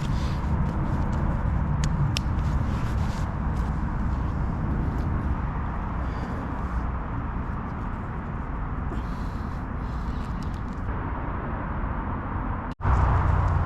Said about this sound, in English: sorry about the noise. I've got a major road behind me where these woods are